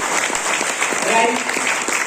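Audience applause fills a motivational leadership gathering in Jammu and Kashmir: dense, steady clapping from a crowd throughout, with a voice briefly audible over it.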